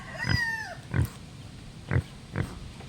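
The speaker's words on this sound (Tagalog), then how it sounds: "Native na baboy." A native pig about to be slaughtered grunts four times in short low bursts spaced across the span, close and moderately loud, with a faint whistling or squealing sound early on.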